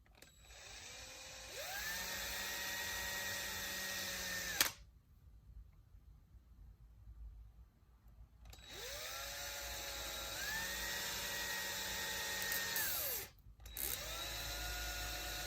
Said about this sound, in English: Let me drill this one out real quick.